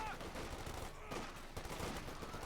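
Dense machine gun fire crackles continuously in Company of Heroes 2 battle, mixed with other combat noise at a steady moderate level throughout.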